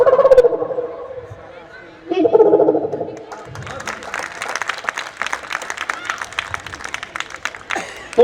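A performer's voice imitates owl calls in two short wavering bursts at an outdoor Holi gathering in Vindhyachal Nagar, followed by a swell of crowd clapping and chatter.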